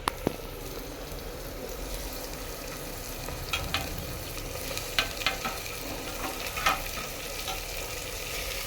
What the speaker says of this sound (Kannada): ಇದನ್ನು ಈಗ ಆನಿಯನ್ ಎಲ್ಲ ಫ್ರೈ ಆಗ್ತಿದೆಯಲ್ಲ, ಅದಕ್ಕೆ ಹಾಕಬೇಕು.